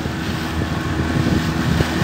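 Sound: boat engine running on the water

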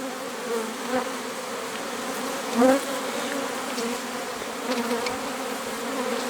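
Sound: honeybees buzzing while entering the hive

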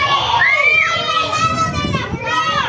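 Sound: children shouting

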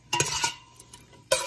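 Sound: melting butter with parsley in a pan

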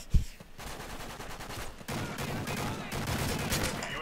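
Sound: gunfire from the player's gun in the video game Modern Warfare 3

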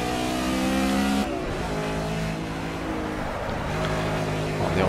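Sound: race car braking hard with locked wheels, video game Project CARS

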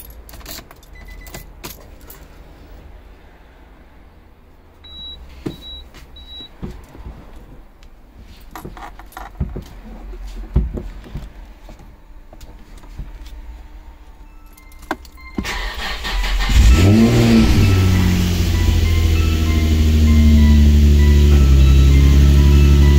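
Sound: Nissan 350Z/G35 engine first startup after clutch install

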